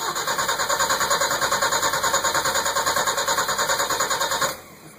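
A Fiat 1200 fitted with a Toyota 3K engine cranks hard, with a loud, rapid, even rhythmic churning from the starter close by for about four and a half seconds, then cuts off without catching.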